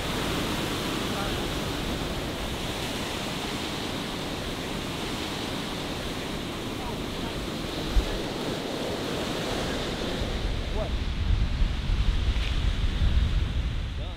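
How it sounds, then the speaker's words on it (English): Turbulent ocean waves break on the shore at Acadia National Park, a loud, unbroken roar of surf mixed with wind rumble that swells slightly toward the end. "We stared at the turbulent waves in awe of the impressive sight in front of us."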